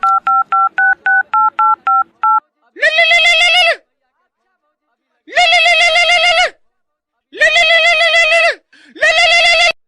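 Telephone dialing tones play first as a quick run of short, evenly spaced beeps, then give way to long, loud, harmonically rich bursts that sound like a ringing tone, each lasting about a second with gaps between.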